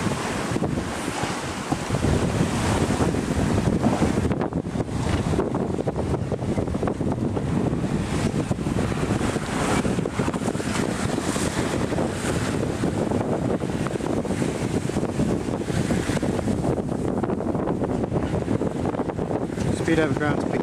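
Wind roars steadily across a sailboat at sea during squally weather, a loud continuous buffeting rush over the hull and water with a voice faintly present beneath it.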